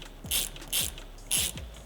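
Ratchet fitted with a 17mm socket tightening skid plate bolts on a Rivian R1T or R1S: three quick, loud bursts of close clicking, each followed by a short low knock.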